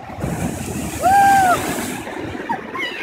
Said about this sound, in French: et on se prend les vagues